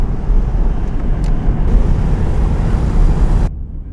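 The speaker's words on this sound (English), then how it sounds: "Car just went into limp mode." A Mercedes-AMG GT R running at Chuckwalla Valley Raceway as it goes into limp mode: a loud, steady low engine and road drone that holds, then drops abruptly in level and brightness near the end.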